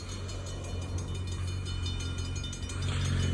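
ELS 400 freight train passing a crossing in Iron Mountain, Michigan, with a loud steady low rumble and rhythmic clanking of cars rolling by close, growing slightly louder at the end.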